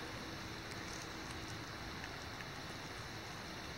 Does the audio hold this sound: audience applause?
no